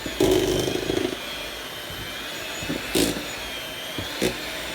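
Buttercream being mixed on slow with an electric mixer as powdered sugar goes in. A motor hum runs throughout, with a louder whirring burst at the start and a few short clattering spikes later.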